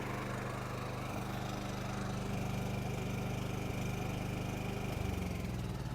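A quiet 3200-watt generator runs with a continuous low, even engine drone, close and unbroken throughout.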